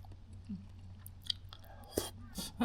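A boiled egg is chewed up close, a soft and faint mouthful of chewing with a few moist clicks and light crunchy bits over a quiet background.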